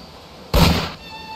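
A single sharp gunshot rings out in a VRChat murder game, loud and close, with a brief decaying tail over a quiet background.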